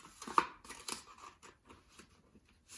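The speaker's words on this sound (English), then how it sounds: "and just cut along that half circle" Scissors snip through a folded paper plate in a few quick, crisp cuts, close and fairly quiet, with no talking.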